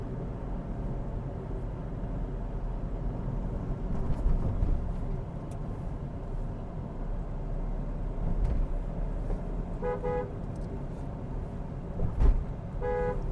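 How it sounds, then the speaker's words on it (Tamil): A Hyundai Verna driving in fifth gear, fitted with an aftermarket Volkswagen-type horn, gives two short toots near the end over steady engine and road rumble inside the car. "இந்த வோக்ஸ்வேகன்லாம் வரும் அந்த ஹார்ன் தான் போட்டிருக்கோம்."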